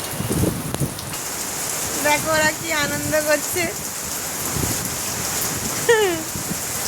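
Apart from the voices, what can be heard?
heavy rain falling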